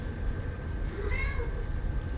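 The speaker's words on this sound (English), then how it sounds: "there's a cat involved in this apartment too" A single cat meow, short and clear, rises over low background hum in the video game Telling Lies, set in an apartment, with a faint voice underneath.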